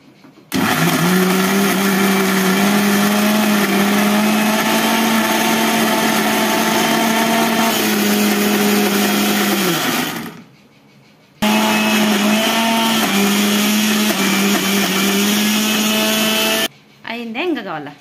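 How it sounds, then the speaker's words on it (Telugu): Electric mixer grinder whirring loudly as it grinds fenugreek paste with paper and water, running in two long bursts with a brief stop between them, a steady high motor whine throughout. "మళ్ళీ ఇప్పుడు మిక్సీ అయితే పట్టేసుకోవాలి."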